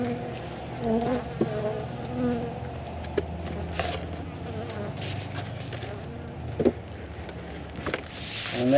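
Honey bees buzz in a dense, continuous drone around an opened winter hive outdoors, close and steady, with a few soft knocks and rustles as the frames are handled.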